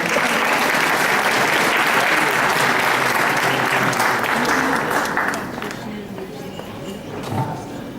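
Loud, dense applause from a concert audience welcoming classical Turkish music performers to the stage, sustained for several seconds before thinning out and fading, with voices murmuring as it dies down.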